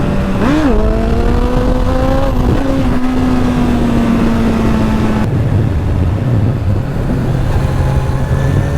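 A Suzuki Bandit motorcycle with a new jet kit accelerates hard and loud, its engine note rising and shifting through gears before settling into a steady drone, mixed with strong wind rush.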